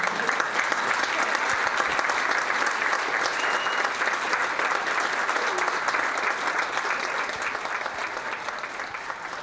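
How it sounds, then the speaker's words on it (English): Sustained round of audience applause for the backstage crew at a pageant contest, many hands clapping in a dense, steady patter, loud and continuous and slowly easing toward the end. "so you guys can receive your round of applause that is you deserve."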